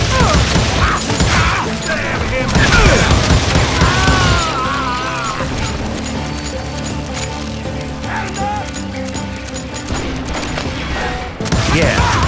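Hired gunmen open fire in the Gunslinger video game with rapid, dense, overlapping shots and crashes. Music plays underneath, and a voice talks over the loud, continuous action.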